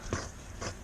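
A dog hits its head on a table and gives two short, sharp yelps about half a second apart, close by, with quiet room noise in between.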